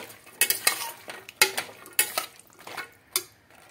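A spoon stirring tomatoes and vegetables in a metal pan for millet pulao, with a series of sharp scraping clinks against the pan at an irregular rhythm over a low sizzle, close and fairly quiet.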